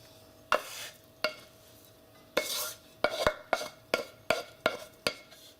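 Vegetables and scallions tipped into a hot cooking pan, a series of sharp clattering drops and scrapes in an irregular rhythm, each followed by a brief sizzle, close and without talk.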